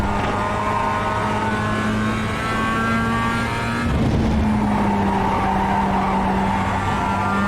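Mazda MX-5 race car in iRacing at Laguna Seca, engine droning steadily with tonal harmonics while the tyres squeal and slide through a corner, a brief surge of scrabbling noise midway, loud and continuous with no talking.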